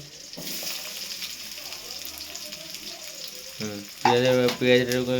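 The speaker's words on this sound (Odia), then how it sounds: "ହଁ, ଏଇ ଠୋଠା ହେଇ ଫୁଟିବ। ଦେଖନ୍ତୁ, ହଉ, ହଁ, ଫୁଟି ଚାଲିଲା।" Spices splutter and fry in hot oil, a steady close crackle and sizzle that carries on under a voice, which gets louder toward the end.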